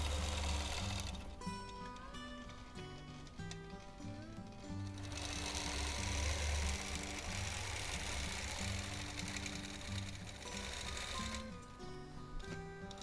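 Sewing machine stitching feather motifs on a small wholecloth quilt, a continuous close mechanical whir that changes in speed and pitch as it runs, with short pauses and no talking.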